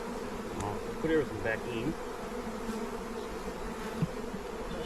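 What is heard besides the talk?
honey bees buzzing at the hive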